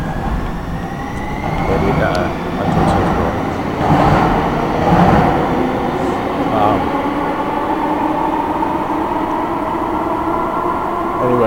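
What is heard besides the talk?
passing train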